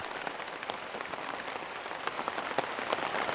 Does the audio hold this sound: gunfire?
no